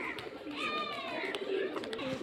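Giribaz pigeons coo continuously in a low, throaty warble from a pigeon loft in Murshidabad, joined by a brief higher whistling note. The sound is fairly faint, with a murmur of background noise under it.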